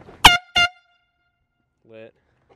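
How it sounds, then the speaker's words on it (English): Two short, loud air horn blasts from a car while driving, in quick succession, followed after a pause by a fainter, lower honk. "doing like an air horn prank on people while driving"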